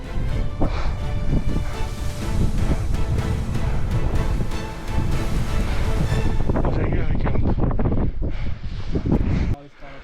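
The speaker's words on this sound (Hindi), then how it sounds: "बहुत ज़्यादा तेज हवा है" Strong, cold wind buffets the microphone at high altitude on the Thorong La trek in the Annapurna region, a loud, continuous roar with gusty surges throughout, while a voice speaks over it.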